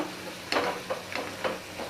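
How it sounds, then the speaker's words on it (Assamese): Spices with turmeric frying in a pan for steamed hilsa: a soft sizzle under several short scraping strokes of a spatula stirring at an irregular pace. "মছলাখিনি ধুনীয়াকৈ ভাজি ল'ব লাগিব"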